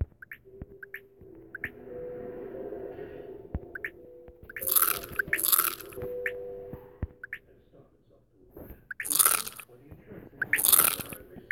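Squishy, crunchy chewing from eating worms in the block-building game Blockheads, two paired bursts near the middle and two more near the end, over quiet game background.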